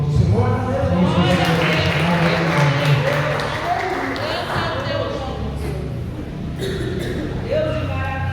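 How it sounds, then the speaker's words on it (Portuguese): A church congregation applauding, a broad wash of sustained clapping that swells and then tapers off while a voice carries on speaking loudly over it. "Aplauda o nome do Senhor."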